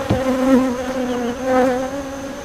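A dense, steady buzz of many honeybees swarms close by during a hive inspection, droning continuously with slight swells in pitch and loudness.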